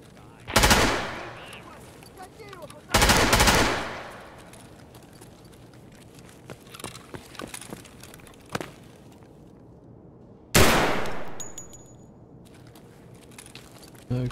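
Gunfire in the shooter game Escape from Tarkov, with loud bursts near the start and again later, smaller sharp shots and clatter in between, and a soft electronic tone near the end.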